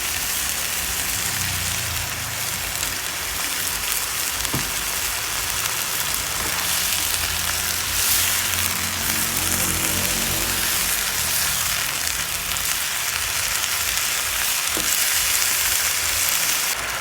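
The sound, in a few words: mushrooms stir frying with oyster sauce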